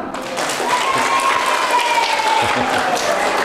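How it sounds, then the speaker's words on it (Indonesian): Audience at a mosque Maulid Nabi gathering breaking into loud, continuous clapping, with a voice or cheer rising faintly through the crowd noise. "Tepuk tangan dong"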